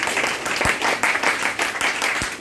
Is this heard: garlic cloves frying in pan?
no